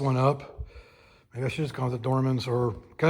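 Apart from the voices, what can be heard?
None of the usual background noises is heard.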